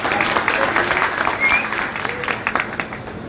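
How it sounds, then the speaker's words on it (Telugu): A crowd at an election rally claps steadily and densely for several seconds, with scattered sharper claps and a faint murmur of voices under the applause. "మీ అందరికీ మీరే ఒకసారి చప్పట్లు కొట్టుకోండి తమ్ముళ్ళు."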